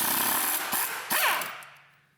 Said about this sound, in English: Zip them babies off there. They're a little 3/8 impact.